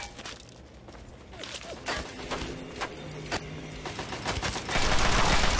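Gunfire in Fallout 3 crackles as scattered single shots that build into a denser volley toward the end, mid-distance and moderately loud, with no talking over it.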